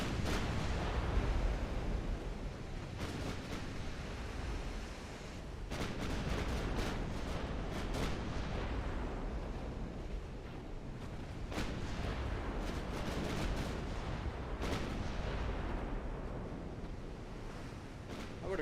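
Battleship guns fire in a naval video game, heavy booms rolling under a constant wash of wind and ocean noise, with several sharper reports standing out now and then.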